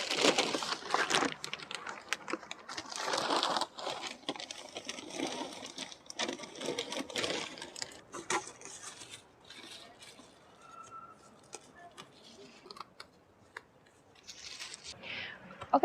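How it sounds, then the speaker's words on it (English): Multi-purpose potting mix is scooped and poured into a plastic bag-lined crate, giving irregular rustling, crinkling and gritty scraping bursts of varying loudness, with short pauses between scoops. "now I'm gonna fill the crate with multi-purpose potting mix"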